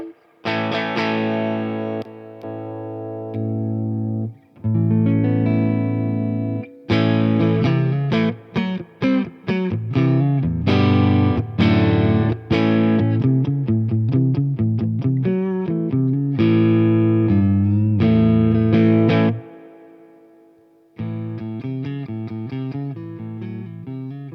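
Electric guitar played through a Beetronics Larva pedal with the preamp maxed and light drive, giving loud chords and picked notes with a gritty, mildly driven tone and short pauses between phrases.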